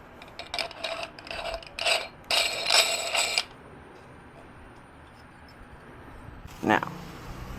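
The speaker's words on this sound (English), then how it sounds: "Sausage grinder from the other night." Metal sausage grinder handled and cranked, a series of loud ratcheting, scraping mechanical bursts close by, then a lull and one last sharp clatter.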